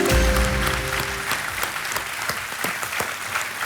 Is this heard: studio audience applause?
yes